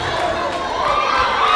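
Crowd cheering at a Central vs Putnam high school volleyball game, a steady roar of many voices in a gym, loud and sustained throughout.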